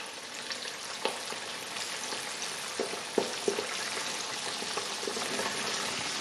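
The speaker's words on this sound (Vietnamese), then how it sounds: "mình cho cái da gà xuống trước" Chicken skin frying over high heat in a pan of oil, a steady close crackling sizzle with scattered sharp pops throughout, no voices.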